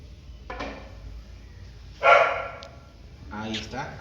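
A dog in a home barks once, sharp and moderately close, during a math lesson. Someone speaks before and after the bark.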